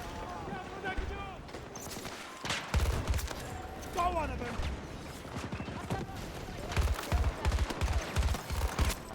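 Automatic gunfire in Battlefield 2042 comes in repeated rapid bursts amid busy battle noise, with a voice talking over parts of it; the shots are moderately close and grow denser toward the end.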